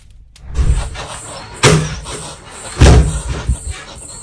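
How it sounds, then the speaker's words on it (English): Heavy, loud thuds of banging on a door land in an irregular sequence of about four hard blows with pauses in between. "the sound of relentless banging on the door grew louder"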